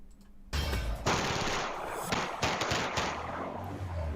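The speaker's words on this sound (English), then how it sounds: "Rapid fire gunshots" Rapid gunfire on a street in Seattle, a quiet moment broken by loud bursts of shots in quick succession, continuing densely with a few sharper reports.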